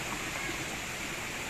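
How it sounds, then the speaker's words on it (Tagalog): Spring water falls into a stream, a dense, steady rushing wash of broadband noise that sounds close and constant, with no distinct splashes or voices. "Gikan sa tubod nga tubig. Nya adto bagsak sa sapa."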